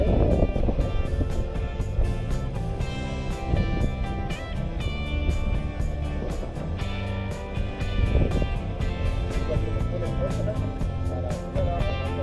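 A boat engine runs at low throttle as the vessel casts off and leaves the pier, a steady low rumble mixed with wind noise and light clattering throughout.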